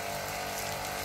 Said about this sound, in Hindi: ये चल पानी आ जाने का चालू है, यस ये देखो पानी आ गया है, वाओ, जो मोटर है बिल्कुल एकदम साइलेंट मोटर है